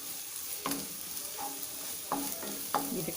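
Egg fried rice being stir-fried in a pan, a soft continuous sizzle broken by several scraping stirs of the spatula at irregular intervals, heard alone without talk.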